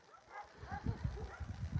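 Dogs at a shelter bark and yip in short bursts, several quick barks overlapping, fairly faint and close, with a soft background hum.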